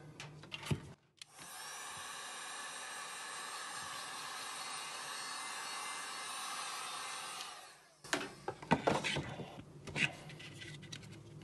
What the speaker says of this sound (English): so you can like take a heat gun to it.